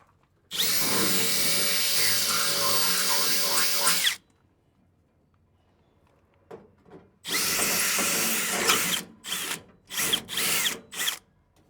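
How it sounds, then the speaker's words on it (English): A power drill removing pop rivets whirs loudly in a long continuous burst, pauses, then runs again in several shorter bursts, close up. "requires a drill to remove"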